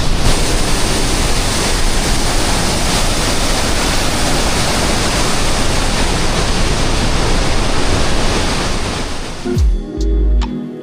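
An outdoor waterfall roars as dense, continuous white noise close to the microphone, steady throughout before cutting off abruptly near the end.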